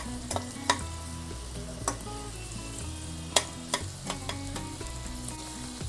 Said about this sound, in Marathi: आम्ही थोडे खडे मसाले त्यात टाकून ते भाजून घेतो